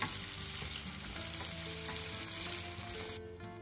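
Chopped onion sautés with spices in a pan, giving a steady, loud sizzle with faint stirring clatter throughout, then the hiss drops away abruptly near the end.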